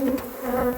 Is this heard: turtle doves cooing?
no